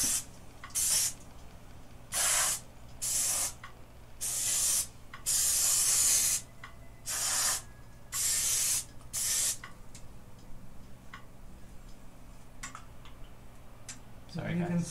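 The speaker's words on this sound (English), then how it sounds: "A spray on oil." Canola oil aerosol cooking spray hisses in a string of short bursts, roughly eight sprays of varying length at close range, followed by quieter room noise during a home Korean beef BBQ meal.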